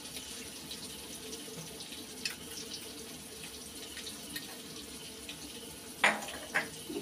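Water runs steadily into a cooking pan of spices (cumin, turmeric and salt), a continuous soft rushing hiss with a couple of sharper clinks near the end.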